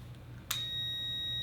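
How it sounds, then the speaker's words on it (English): A real automotive headlight switch pulled out once to its taillight position, wired into a truck simulator setup, sets off one short electronic beep that leaves a steady high tone ringing faintly afterward in a quiet room. "Okay, it beeps."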